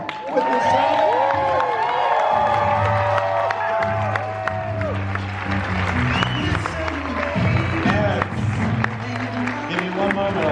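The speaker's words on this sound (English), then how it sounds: "let's give a round of applause to Nick" A seminar audience in Los Angeles claps and cheers loudly and steadily for the whole stretch, with whoops rising over the applause and music playing underneath.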